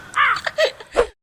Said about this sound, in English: Cue in the bird.